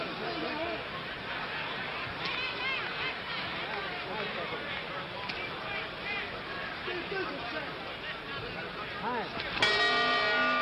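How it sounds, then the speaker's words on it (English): The boxing bell ends round two of the 1964 Cassius Clay vs Sonny Liston fight, ringing out near the end over the steady hubbub of an arena crowd. "that time they hear the bell"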